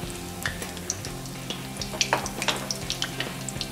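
Paneer noodle rolls frying in hot oil, a close crackling sizzle with scattered sharp pops and light clinks, steady throughout.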